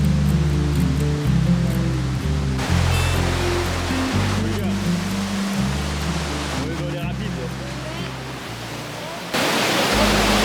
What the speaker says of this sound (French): On a enfin trouvé Waterfall. les cascades.